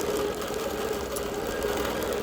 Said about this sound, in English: I'm quilting the horizontal border now.